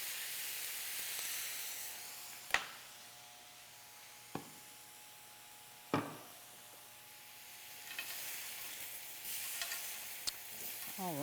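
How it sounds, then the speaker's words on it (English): Pineapple pieces sizzle softly on a grill while being basted with sauce, a quiet steady hiss broken by a few sharp scraping clicks and taps. "I'm going to start basting the pineapple"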